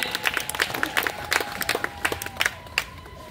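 Audience clapping greets a guest at an outdoor gathering of the All India Binjhal Mahasabha at Nrusinghnath, Paikmal, made of sparse, uneven claps from a modest crowd, fairly faint, with a faint tonal hum running beneath.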